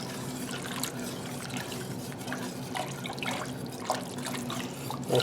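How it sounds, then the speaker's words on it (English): Gumbo simmering in a pot over medium heat, a soft close bubbling and popping with irregular wet ticks, steady and quiet throughout. "You want to just simmer this goodness here."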